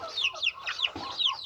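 Backyard hens and young chickens cluck in quick repeated bursts, close and fairly loud, with a few higher squawky calls mixed in and no talking.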